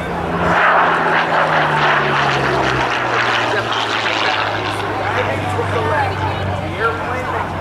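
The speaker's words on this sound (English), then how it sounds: "From the P-40 Warhawk, again, crossing Show Center" A P-40 Warhawk warbird flying past show center at the 2008 Jones Beach airshow, a loud propeller engine roar with a slowly falling pitch, while an announcer talks over it and a crowd murmurs.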